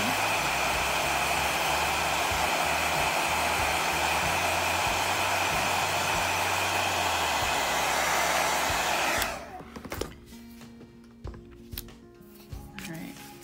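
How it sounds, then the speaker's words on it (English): A hair dryer blows loud and steady with a broad whooshing roar for about nine seconds, then cuts off, leaving quiet handling noises. "I'm gonna use my hair dryer"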